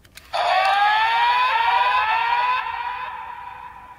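Loud electronic synth sound effect from a Kamen Rider Geats Premium DX Boost Raise Buckle toy's handle in Ace Mode: a bright, sustained tone that sweeps gently downward for a couple of seconds, then fades and tails off alone.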